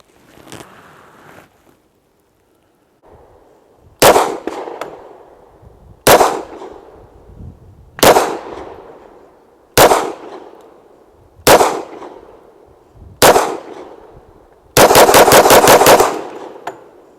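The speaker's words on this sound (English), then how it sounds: "we'll fire off 3 or 4 rounds, maybe 5 rounds, and then we're going to roll right into a rapid fire" A Rock Island Armory Rock Ultra HC 10mm pistol fires six loud single shots about two seconds apart, each ringing out briefly, then a fast rapid-fire string of rounds.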